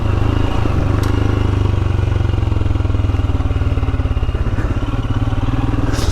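A Royal Enfield Himalayan motorcycle riding a green lane, its single-cylinder engine thumping steadily and loud at close range, with rattles and clatter from the rough track and no talking.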